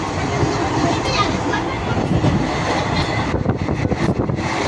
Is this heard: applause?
no